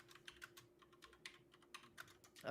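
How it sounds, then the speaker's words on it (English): Loud clacking keystrokes on a computer keyboard, irregular bursts of quick taps close to the mic, with no talking. "your typing is so loud"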